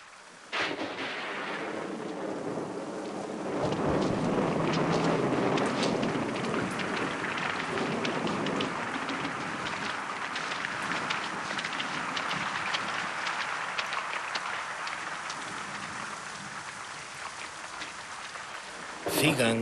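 Heavy rain pours steadily on a forest in chimpanzee country, with low rumbling thunder rolling throughout, loud and continuous for nearly twenty seconds.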